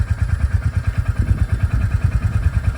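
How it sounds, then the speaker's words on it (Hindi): A Royal Enfield Bullet 350 motorcycle engine idles steadily close by, a low rhythmic chugging pulse that stays even with no revving. "जो आइडली है, मतलब नो स्टार्ट है, एक्सीलेटर नहीं दे रहे हैं, तब ये बाइक की आवाज़ आती है"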